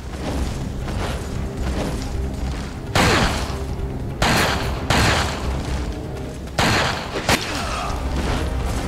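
Repeated bursts of gunfire and booming shots in Resident Evil 4 Remastered, loud and close, with several heavy blasts standing out over a constant dense game-action din.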